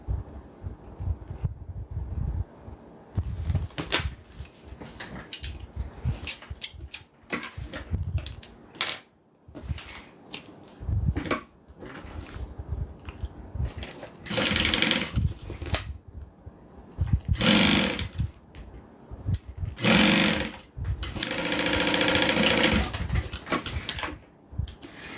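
A sewing machine stitches up a pocket in bursts of fast mechanical rattling close by, broken by pauses, shuffling and handling noises and some rustle from the fabric.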